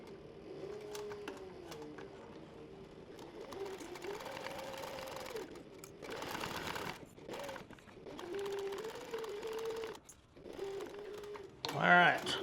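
Sewing machine running a quick basting stitch around the edge of a canteen purse, a soft, steady motor hum in bursts with short pauses, heard under quiet speech.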